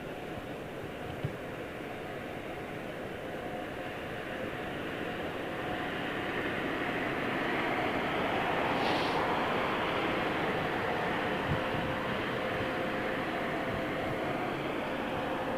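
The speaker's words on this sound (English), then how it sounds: "Is that a Dreamliner in the test engine test bay?" A Boeing Dreamliner jet engine runs in a test bay at London Heathrow Airport, a steady, broad roar throughout, a constant rushing whine that swells slightly louder partway through and holds.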